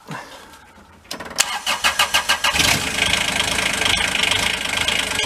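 A Bobcat UTV with a cheaply rebuilt transmission and its seat removed is cranked over. A quick series of starter pulses leads to the engine catching and settling into a steady, close idle.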